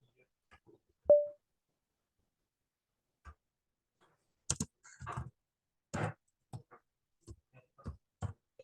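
Scattered keystrokes on a computer keyboard while entering a name, a few isolated clicks followed by a quick burst of irregular taps, close and quiet in an otherwise silent room.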